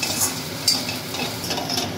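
Taro leaf paste stirred and fried in oil over low to medium heat, a gentle continuous sizzle with occasional light scrapes and metallic taps of a spatula against the pan.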